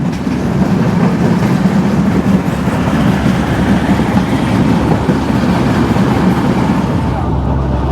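Drutojan Express, a luxury express train in Bangladesh, runs on rails with a loud, continuous rumble and rattle heard from on board, easing slightly near the end.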